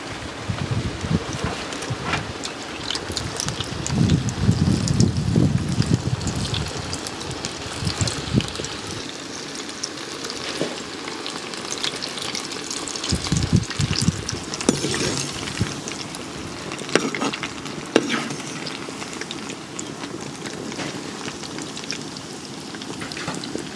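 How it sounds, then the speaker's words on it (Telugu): Cauliflower pieces hit hot oil for frying, giving a steady crackling hiss that swells loudest early on and then settles into a dense, even sizzle for the rest of the stretch, with no talking. "ఇప్పుడు కాలీఫ్లవర్ ముక్కలు ఫ్రై చేసుకుందాం."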